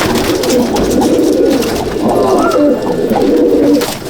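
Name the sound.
hybrid pigeons cooing in a loft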